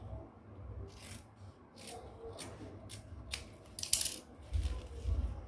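Scissors snip fabric to shape the back neck of a boubou gown, a handful of short, separate crisp cuts spaced about half a second apart, close up and quiet, with a soft rustle of cloth at the end.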